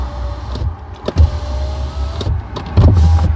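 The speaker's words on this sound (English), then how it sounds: "Can you hear the cars going past too loudly?" Cars driving loudly past on a road, heavy low rumbles swelling and fading as vehicles pass close by, with no talk.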